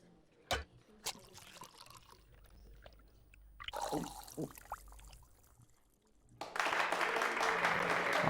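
Applause from a crowd of characters in the video game MediEvil rises into a dense, steady burst of clapping near the end, following quieter stretches with scattered sharp clicks and a brief voice.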